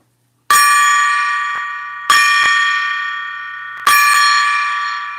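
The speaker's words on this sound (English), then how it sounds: "I'm going to ring the gong 3 times for you." A gong struck three times at even intervals, each hit ringing out bright and loud with a long, shimmering sustain that slowly fades before the next strike, alone without voices.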